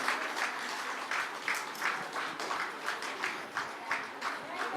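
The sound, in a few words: applause at wedding cake cutting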